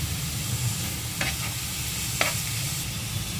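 Vegetable momo filling of cabbage, capsicum and carrot stirred in a hot pan, with a steady soft sizzle and a couple of sharp spatula scrapes against the metal.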